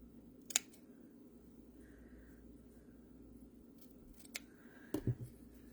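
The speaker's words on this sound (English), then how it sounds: "Let's get some scissors in here." Scissors cutting embossed vellum, a few quiet crisp snips spaced over several seconds against a faint room hiss, close and soft with no talk.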